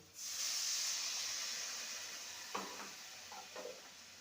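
Water poured into a hot pan of fish curry with elephant foot yam, a loud steady hiss of steam that slowly fades, then a few soft scraping stirs near the end.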